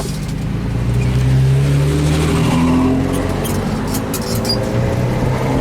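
A Hollywood celebrity tour van's engine revs hard and climbs in pitch as it accelerates away from a truck, heard from inside, loud and continuous with road rumble beneath.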